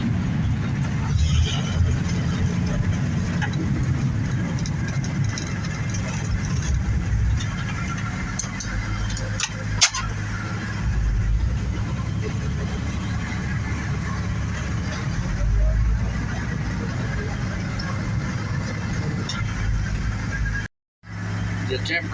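Engine of a restored 1955 Bombardier wide gauge snow vehicle running on a test drive, a steady low rumble heard from inside the cab while someone talks over it.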